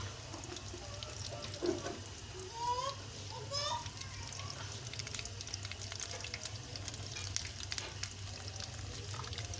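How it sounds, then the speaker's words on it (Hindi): Samosas frying in hot ghee in a wok, with a steady bubbling sizzle and a few stirring scrapes, while children chatter and play faintly in the background. "सबसे पहले हम समोसे कर लें फ्राई।"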